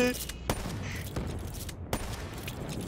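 Gunfire in Call of Duty Black Ops 3: a few sharp shots, spaced about every second or so, stand out over a busy, noisy game mix.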